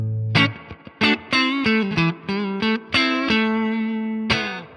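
An electric guitar through an amp modeler set to a clean Fender Deluxe Reverb tone plays a short run of plucked notes and chords, ending on a sustained chord with a touch of reverb.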